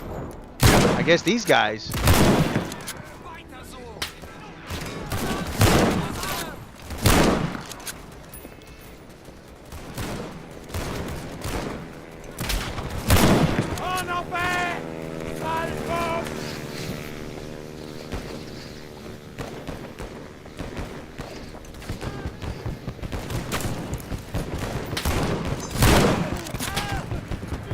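Gunfire in the WW1 game Over the Top: WW1 cracks out as scattered loud shots and short volleys over windy outdoor ambience, with someone talking quietly between the shots.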